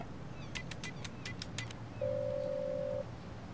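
Telephone keypad tones in a phone booth in a video game: a quick run of about eight dialing beeps, followed by a single steady one-second tone over faint background hum.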